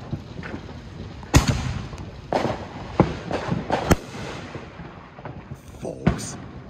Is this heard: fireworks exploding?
yes